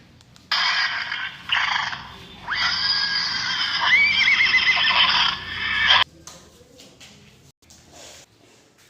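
A horse whinnies loudly and at length as a soldier mounts and rides off toward a farmer's field, with clip-clopping hooves around it, then a quieter stretch of faint scraping and ticking follows.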